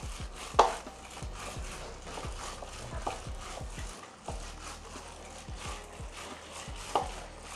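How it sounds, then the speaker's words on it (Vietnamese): Fish paste for fish cakes is kneaded and slapped by hand, giving repeated soft thuds at an irregular, roughly half-second pace, close and moderately loud, with no talk. "Bạn nhồi đến khi nào mà cái cục chả của mình nó dẻo luôn nha."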